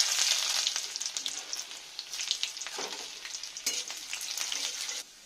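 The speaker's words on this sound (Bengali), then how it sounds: "রসুনটা আমার লাল লাল করে ভাজা হয়ে গেছে, গন্ধ ছেড়ে দিয়েছে।" Chopped garlic and black cumin seeds frying in hot oil, a steady bright sizzle with scattered crackles and pops that carries on for about five seconds before abruptly dropping away, no talking.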